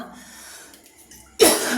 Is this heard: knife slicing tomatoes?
no